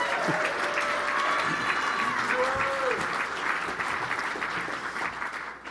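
An audience at an Indigenous business award gala claps in a sustained, dense round of applause that tapers toward the end, with a few voices heard over it.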